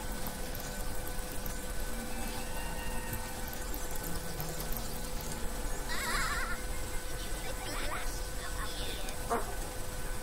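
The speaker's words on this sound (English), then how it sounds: "Oh, it's a jumping sheep." A sheep bleats in the fantasy role-playing video game Divinity: Original Sin. One short, nasal bleat rises briefly about midway through, over a steady game soundscape and background noise.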